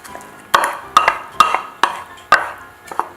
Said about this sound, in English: now we're going to add in our shallots